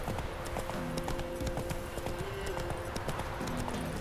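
Roach the horse clip-clopping in The Witcher 3, a continuous brisk run of hoofbeats mixed with game music and ambience, steady throughout with voice talking over it.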